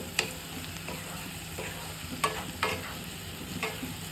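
Spoon stirring ground coriander and a pinch of turmeric in a frying pan while making paneer bhurji, a few soft scrapes and taps over a steady low sizzle, close and fairly quiet.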